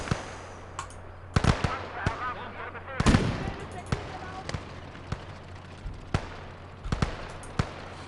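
Gunfire from a fire base in Call to Arms: Gates of Hell, Ostfront, with scattered single shots and short bursts echoing at varying distances over a steady low rumble.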